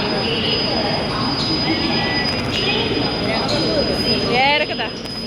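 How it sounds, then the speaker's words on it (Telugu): A train pulls into a station, its wheels squealing on the rails in a loud, steady rush of carriage noise, with high screeching tones rising near the end and faint voices in the background. "ఆ తర్వాత అయితే ఇంకా ట్రైన్ కూడా వచ్చేసింది."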